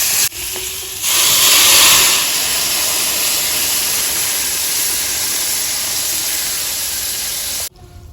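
Water poured into a hot pan bursts into a loud, steady hiss of steam that swells in the first couple of seconds, then holds evenly before cutting off abruptly.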